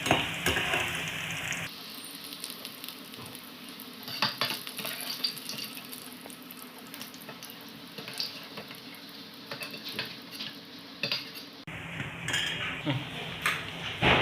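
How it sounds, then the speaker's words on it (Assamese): Nutrela soya chunks fry and get stirred in a pan. A soft sizzle runs beneath repeated scraping and clinking of a utensil against the pan, moderately quiet and steady, with louder bursts at the start and end. "নিউটেলাখিনি ভালকৈ ভজা হৈ গ'ল"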